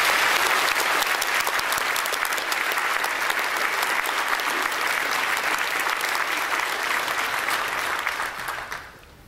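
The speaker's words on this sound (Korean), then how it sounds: "목사님 나오실 때 박수로 환영하겠습니다" A church congregation welcomes the pastor with loud, sustained applause, dense even clapping that fills the room for about eight seconds before tapering off at the end.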